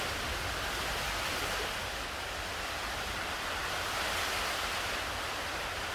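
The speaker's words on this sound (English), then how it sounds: "We're having a bit of a shower at the moment." Steady rain shower falling outdoors in an Australian garden, a continuous broadband hiss with no pauses, fairly loud and even throughout with no voices.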